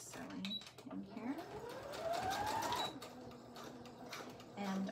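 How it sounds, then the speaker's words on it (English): Sewing machine running steadily while stitching an elastic casing, a continuous mechanical whir with a rising motor tone, close by, with a person talking over it. "Now I'm going to raise my needle and start sewing in here."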